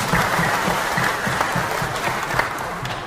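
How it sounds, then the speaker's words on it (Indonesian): A crowd at an official swearing-in event in Siak, Indonesia, claps steadily and fairly loudly, a dense wash of hand claps with a few sharper individual claps standing out throughout. "Pak Oposan Sinaga, tepuk tangan buat beliau"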